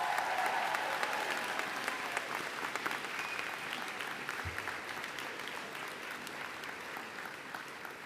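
A large commencement crowd at Denison University gives a sustained round of applause, a thick continuous patter of many hands that holds steady for the whole stretch, with a faint low thump partway through.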